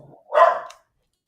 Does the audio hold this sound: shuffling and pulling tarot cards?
no